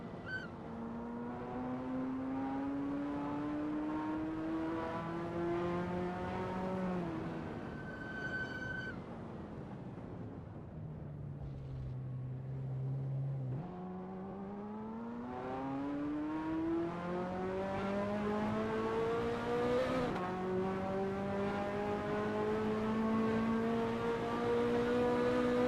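A Ferrari F40 racing game car laps Kyalami, its engine note climbing steadily through the revs, dropping sharply at each upshift and building again, loud and continuous with no talking.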